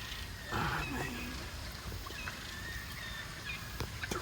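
A group of wild turkeys gobbles outdoors in a loud burst near the start, then scattered fainter calls follow over steady background noise.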